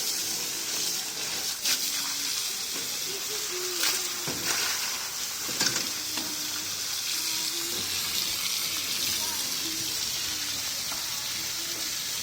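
Water pours steadily over cassava peels in a continuous rushing splash, close and fairly loud, with small knocks and shifting sounds mixed in throughout.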